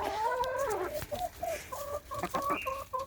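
Chickens cluck close by in a busy run of rising and falling calls, with several birds overlapping and no talking.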